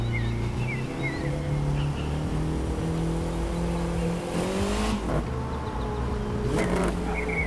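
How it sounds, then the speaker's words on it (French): A Volkswagen Golf GTI racing engine in the video game The Crew 2 drones and shifts pitch as it changes and downshifts gears, with a sharp backfire pop near the end and a steady, loud engine hum throughout. "le bruit de passage de vitesse, il est vraiment ouf"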